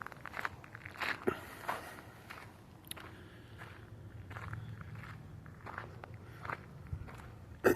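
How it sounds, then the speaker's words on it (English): Footsteps on gravel outside a building at night, a series of faint irregular crunching steps with quiet background hum. "And then I hear like footsteps on the gravel."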